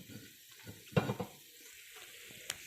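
Roasted prawns dropped into sizzling masala in a pan for a Kerala-style prawn roast: a soft background sizzle, a clattering splash as they land, then faint stirring and a small clink.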